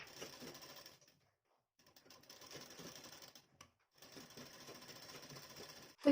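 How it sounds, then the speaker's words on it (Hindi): Sewing machine stitching along the neckline of a boat-neck blouse, running in steady rapid bursts with a pause near the start and another short gap before resuming, close and clear with no talk. "पलटने के बाद देखिए हम गले पर सिलाई लगा देंगे।"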